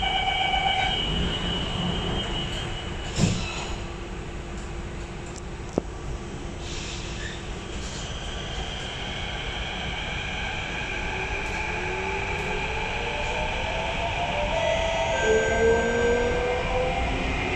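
Singapore SMRT CT251 metro train on the Thomson-East Coast Line, running between Gardens by the Bay and Caldecott, toward Great World station. A steady rolling rumble and hum throughout, with a few sharp clicks and a rising motor whine near the end, no voices.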